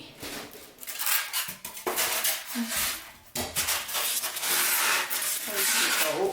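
A ceramic baking dish clinks and scrapes as it is handled, with rustling and knocking in bursts and short pauses between.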